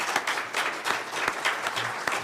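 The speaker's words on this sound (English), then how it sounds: "Please, a round of applause for our wonderful panelists." Audience applause for panelists at a university library panel discussion, steady and fairly close, with individual sharp claps standing out in the crowd sound.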